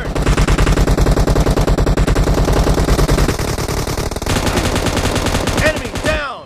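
Rapid automatic gunfire from a mobile battle royale shooter game, loud and continuous with dense bursts throughout, ending in a short trailing ricochet-like whine.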